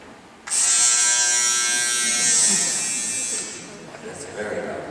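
Loud electric hair clippers switch on abruptly and run with a steady, high-pitched buzzing whine for several seconds before easing off slightly, with a person talking nearby.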